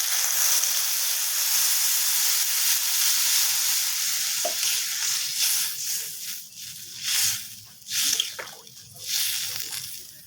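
Water is poured into curry masala frying with tomatoes in a pan for a Bengali fish curry, a close steady sizzle and hiss that breaks into choppy bubbling spurts and sputters toward the end.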